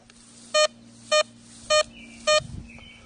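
A metal detector sounds four short, clear electronic beeps at an even pace over a faint hum as it passes over a deep nickel buried about eight inches down.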